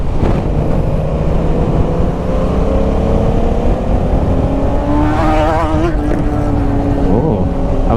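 An off-road motorcycle ridden hard, its engine droning loud and steady throughout with rising and falling revs and a burst of sharper revving near the end, with faint voices underneath.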